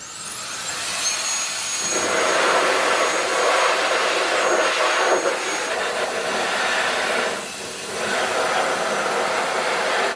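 KICA Jetfan Max handheld air blower blasting a desktop PC fan, a steady loud rushing whoosh with high whine that dips briefly twice as the airflow shifts, no talking.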